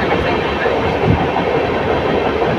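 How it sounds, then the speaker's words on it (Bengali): The 12813 Steel Express runs just after leaving Kharagpur station, a loud, steady rolling rumble with rhythmic wheel clickety-clack heard from inside the train, with a faint hint of voices. "ঠিক টাইম মতো খড়গপুর স্টেশন থেকে ট্রেন ছেড়ে দিল"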